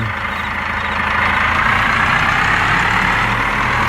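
A tractor engine idles steadily close by while tractors and implements are being washed, a constant low rumble with no break and no talk over it.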